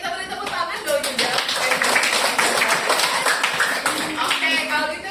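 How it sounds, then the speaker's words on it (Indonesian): A classroom full of students applauds at a steady, dense pace for about five seconds, loud and close, with a few voices mixed in. "Oke, kita beri tepuk tangan dong juga."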